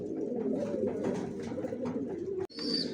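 A loft of racer pigeons keeps up a dense, low cooing chorus nearby, steady throughout, broken by a sharp click near the end followed by a faint high chirp.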